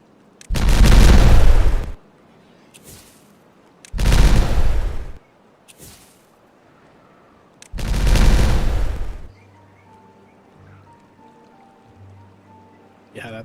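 Three loud booming explosions in a beaver colony-building video game, each a broad roaring blast lasting over a second and spaced a few seconds apart, followed by a quieter low rumble with faint tonal in-game sounds.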